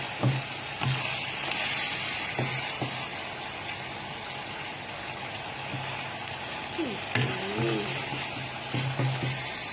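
Tofu fries in oil with a steady crackling sizzle, broken by occasional clinks and scrapes as the pieces are tossed, and a faint voice briefly surfaces near the end.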